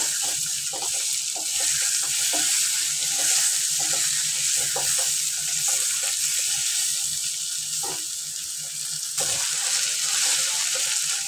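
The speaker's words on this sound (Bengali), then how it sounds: "আমি চিকেনগুলো দিয়ে ভালো করে একটু ভেজে নিচ্ছি" Minced chicken frying in a pan for a spicy chui jhal chicken kosha, a steady loud sizzle running throughout with occasional stirring clatters and scrapes close by, no voices.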